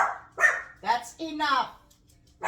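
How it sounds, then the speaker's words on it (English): A dog barks a few times close by while a person talks over it, with a final short bark at the end. "Sorry about the barking."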